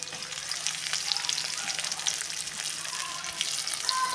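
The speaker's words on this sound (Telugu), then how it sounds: "ఇది ఆయిల్లో ఫ్రై అవుతుంది" Potato and cauliflower curry with tomato frying in oil in a pan, a close, continuous crackling sizzle with a few brighter spits, steady and unbroken, no voices.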